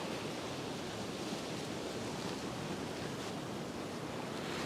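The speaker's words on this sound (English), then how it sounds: "Some of these waves out here are incredible." Sea waves breaking along the Northumberland coast, a steady full-band roar of surf with wind noise, continuous and loud with no speech.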